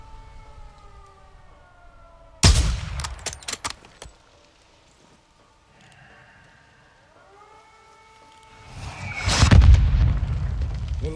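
Mortar blasts in Call of Duty: Modern Warfare 2 (2022) hit as two loud, heavy booms several seconds apart, each followed by crackling debris, over a background of wavering siren-like tones.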